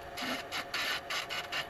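A roughing gouge cutting wood on a lathe for a pointer wand, rhythmic rasping bursts of shaving as the tool passes repeatedly over the spinning workpiece, close and fairly quiet.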